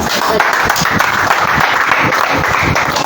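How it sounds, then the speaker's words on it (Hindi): A church congregation at a Hindi-language sermon claps: loud, fast, continuous clapping from start to finish, close and dense, with faint voices mixed in. "ताली बजाइए।"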